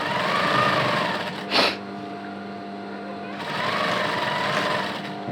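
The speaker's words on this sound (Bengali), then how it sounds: "দেখেন আস্তে আস্তে সিলে দিছি" A sewing machine stitches fabric slowly while a women's frock is sewn, its steady mechanical whirr running in two stretches split by a brief louder burst and a pause, with no talk over it.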